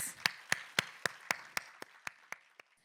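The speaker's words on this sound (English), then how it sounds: "a big round of applause for him once again" A single pair of hands claps steadily at a school event, about ten sharp claps at an even pace, fading slightly toward the end.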